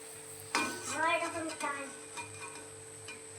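Palm fruit fritters (taler bora) fry in hot oil with a steady, soft sizzle, while a voice talks briefly over the bubbling.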